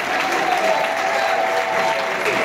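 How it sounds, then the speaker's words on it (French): Steady applause from a crowd, dense and continuous clapping throughout with no pauses. "Et il applaudit."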